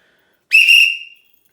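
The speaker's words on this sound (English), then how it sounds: "Why don't we take this thing out here and give it a blow real quick. So here's that whistle." A stainless steel survival whistle from a vintage Stansport kit gives one short, sharp, shrill blast of about three quarters of a second, loud and close, alone against silence.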